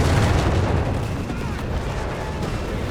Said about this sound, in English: This Howitzer is doing some pretty good work